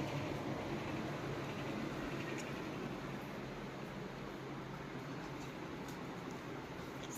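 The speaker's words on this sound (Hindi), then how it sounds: "समझिए ना गर्मी ज़्यादा हो रही है तो मैंने एसी चालू की है।" Air conditioner running indoors on a hot day, a steady, even broadband hum and hiss that stays constant throughout with no other distinct sounds.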